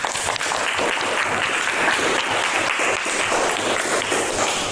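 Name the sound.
classroom applause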